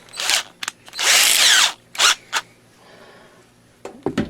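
A power drill spins a wire twisting attachment in close, loud bursts: a short rev, a sustained whir of about half a second, then a couple of brief pulses, with faint handling noise after.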